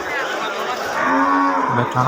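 Cattle and calves at a busy cattle market, with loud, drawn-out moos close by, one long low bellow followed by shorter calls, over a crowded background din.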